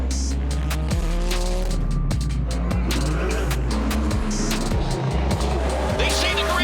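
IMSA sports cars roar away at a race start, a dense, loud wall of engine noise with rising revs and gear changes, tire sounds and overlapping passes close by.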